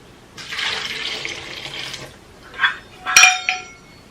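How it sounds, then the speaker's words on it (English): Warm water poured from a cup into a turmeric drink mixture, a steady splashing pour for about two seconds, followed by a few short clinks and knocks of a cup or utensil against the container, close and fairly loud with no talking. "So the last I'm going to add to this is our warm water."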